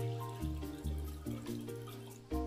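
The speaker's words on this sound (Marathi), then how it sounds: "त्याच्यामध्ये टाकू आपण पाणी" Water pours from a tap or jug into a cooking pot of lentils for Maharashtrian-style dal, a steady splashing stream whose pitch shifts as the level rises, with a fresh surge near the end and no talk.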